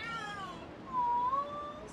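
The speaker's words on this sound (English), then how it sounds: "The cat is scratching Rico real bad." A rescued kitten meows repeatedly in drawn-out, wavering cries, close and fairly loud, during a kitten rescue at a Miami location, with no talk over it.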